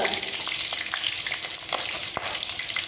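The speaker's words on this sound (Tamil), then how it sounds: "அது நல்லா கொதிச்சாச்சுங்க. இப்போ வந்து 4 பச்சை மிளகாய் போட்டிருக்கேங்க." Four green chillies frying in hot oil and ghee, a dense continuous sizzle with scattered pops and crackles, close and steady with no talking.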